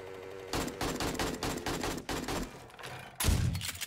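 Rapid bursts of video game gunfire crackle in close, loud volleys, a dense fusillade that stops briefly and then resumes with a heavier blast near the end.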